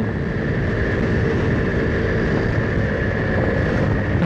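A steady, loud engine drone with heavy wind rumble runs continuously throughout, riding a Honda C90 small motorbike near its 80 km/h top speed.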